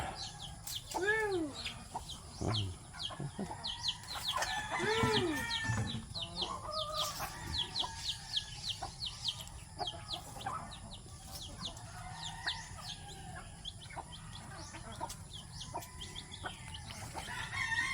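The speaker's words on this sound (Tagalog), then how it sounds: "Manok Bisaya." Bisaya native chickens cluck and crow in a farmyard, several birds calling in overlapping bursts with a rooster's crow near the start, busy and fairly close throughout.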